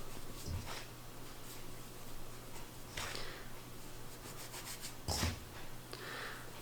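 Hands pressing and flattening floured bannock dough into small pieces, giving soft, quiet rubbing and patting sounds in a few separate bursts over a low steady background hum.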